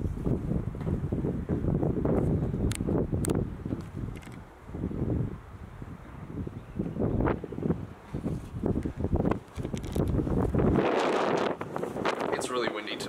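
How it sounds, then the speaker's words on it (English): Strong wind buffeting the microphone in rumbling gusts in a backyard with decking, with people talking underneath. "It's really windy today."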